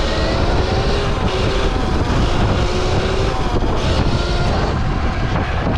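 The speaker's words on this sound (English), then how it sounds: "This wind is throwing me to the left, and to the right is just throwing me back and forth." Strong wind roaring across the microphone of a rider on a light Surron electric dirt bike fitted with trial tires, a loud, unbroken rushing blast throughout.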